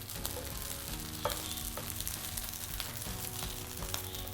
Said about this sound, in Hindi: टिक्कियों को उलट पलट के गोल्डन ब्राउन होने तक सेक लेंगे।